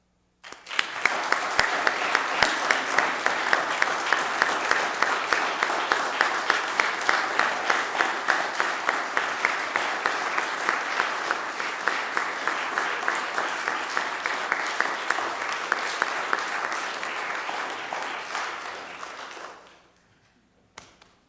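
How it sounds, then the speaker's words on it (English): Sustained audience applause for Eagle Scout Carl at a ceremony, dense steady clapping with a few sharp close claps that carries on for nearly twenty seconds before stopping abruptly. "please give us a round of applause and join me in congratulating Carl"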